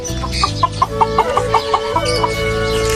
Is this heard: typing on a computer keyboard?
no